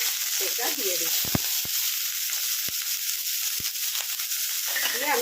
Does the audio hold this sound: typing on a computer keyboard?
no